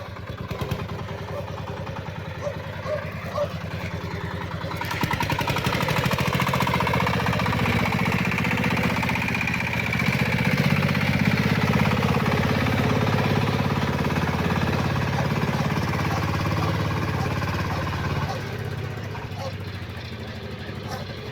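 A heavy Shifeng tractor engine chugs and rumbles steadily while pulling a plough, growing louder after a few seconds and holding a rough, knocking drone before easing off near the end.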